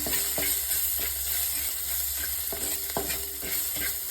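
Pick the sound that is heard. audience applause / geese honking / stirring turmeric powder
stirring turmeric powder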